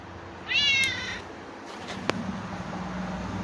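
A stray cat gives one clear, fairly close meow near the start, followed by quieter background noise and a brief sharp click.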